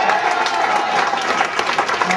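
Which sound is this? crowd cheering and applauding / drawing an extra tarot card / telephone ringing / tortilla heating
crowd cheering and applauding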